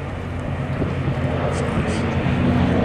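A vintage warplane flies at an air display, a steady, loud, broad engine drone that lasts throughout, with voices talking over it.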